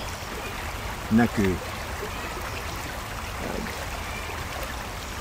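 A small brook at Longinoja flows with a steady, even wash of water throughout, with a brief spoken word over it near the start.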